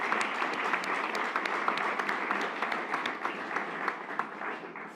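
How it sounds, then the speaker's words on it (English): A conference audience at an event on re-greening cities with nature-based solutions applauds its speakers, with moderate, steady clapping from a mid-sized room and a few crisper individual claps, tapering slightly toward the end. "So a round of applause for all our speakers and then all the insights."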